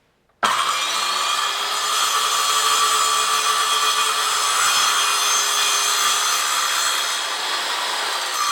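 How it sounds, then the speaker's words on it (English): A saw cuts steadily through a 2x3 wooden stud, a continuous loud rasping grind that starts abruptly and runs unbroken for several seconds with no talk over it. "First, you want to cut 2 40-inch long pieces out of the 2x3 stud."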